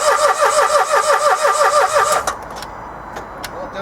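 A Dacia Logan engine cranks without starting after a timing chain replacement, making a loud, rhythmic whirring starter churn that pulses steadily for about two seconds and then stops, leaving faint clicks and quiet background.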